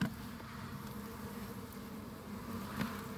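Bees buzzing around a styrofoam hive box, a faint continuous low drone with a slightly louder pass near the end, steady and unbroken.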